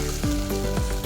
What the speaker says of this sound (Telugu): ఇప్పుడు జింజర్ గార్లిక్ పేస్ట్ ఇప్పుడు వేసుకోండి.